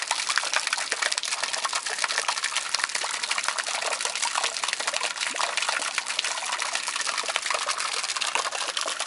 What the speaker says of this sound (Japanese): はい、浄土庭園の噴水です。